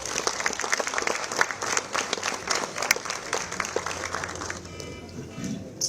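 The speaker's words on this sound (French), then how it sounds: "Sur vos applaudissements, s'il vous plaît." Audience applause at the presentation of the Guadeloupe cycling tour, sustained clapping from a crowd at close range, thinning and fading near the end.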